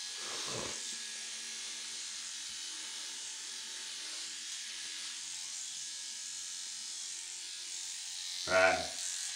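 An electric shaver runs steadily and close by as it shaves off hair, giving a continuous buzzing hiss, with brief voices at the start and end.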